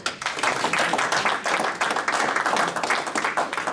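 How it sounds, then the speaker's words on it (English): A small group applauds at a city water board meeting in Greensburg, Indiana, with dense, steady hand-clapping that holds at an even level for a few seconds. "we applaud you"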